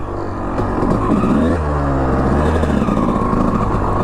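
An old two-stroke dirt bike engine runs close by, loud and continuous, its revs rising and falling with a raspy, buzzing drone and no talk over it.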